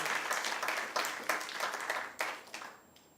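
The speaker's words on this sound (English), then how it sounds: "Could we give them a round of applause?" A crowd applauds steadily, with a dense wash of clapping that carries on for a few seconds, then begins to thin out toward the end.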